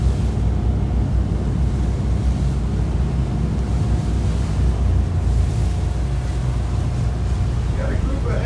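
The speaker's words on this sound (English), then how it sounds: "Doing my best with the wind here" Strong wind gusts across the open sea on a whale and dolphin watch boat trip, a constant low rumble buffeting the microphone, with faint engine and water noise beneath.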